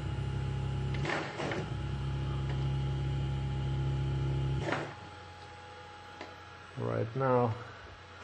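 An AC servo motor driven by a pulse generator board hums steadily at low speed, then nearly stops. Someone speaks briefly over it.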